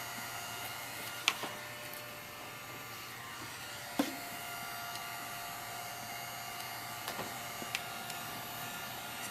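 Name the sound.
heat gun fusing encaustic wax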